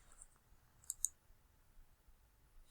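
Two quick, sharp computer mouse clicks from a right-click, close and clear, against a quiet background with no voices.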